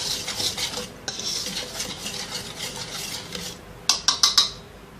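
A spoon stirs dry dough ingredients for pizza donuts (flour, sugar, yeast, milk powder, salt) in a bowl. Close continuous scraping and rubbing, then a few sharp clinks of the utensil against the bowl near the end.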